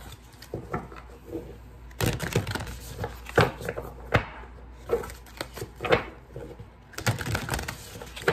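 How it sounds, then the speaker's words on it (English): Shuffling a Starseed Oracle card deck: a run of irregular papery riffles and soft taps in short bursts, close and moderately loud, with no voices. "Let me start with the Starseed Oracle deck and shuffle it."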